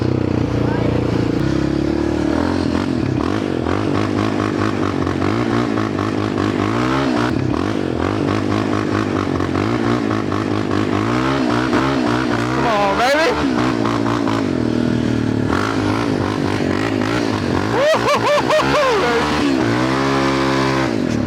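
A Yamaha Raptor 700R quad being street drifted: its engine revs loudly and continuously, rising and falling in pitch, with occasional scraping under it and a voice speaking over it.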